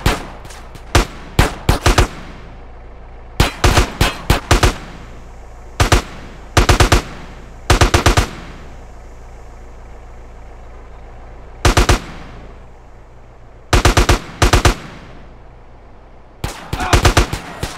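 Gun battle in GTA San Andreas during a warehouse raid: short, sharp bursts of automatic fire, loud and close, come in repeated clusters separated by quieter stretches across the clip, with faint voices mixed in.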